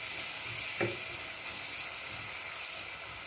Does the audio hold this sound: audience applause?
no